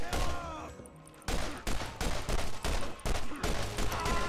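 A big gun in the Borderlands shooter fires in rapid loud bursts, several volleys separated by short gaps, with a brief lull near the start.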